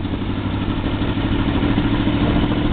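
Yamaha Venture motorcycle engine pulling hard at wide open throttle from about 25 mph, a loud, steady, close-up roar with mechanical clatter that holds throughout.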